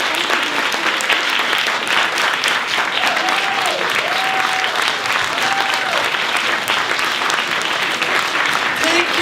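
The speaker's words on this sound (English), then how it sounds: "I'd like us all to clap once more for all the women on the stage." At the Clara Lemlich Awards, an audience gives the women on stage sustained, fairly loud applause, with brief tonal vocal sounds or whoops rising over the steady clapping now and then.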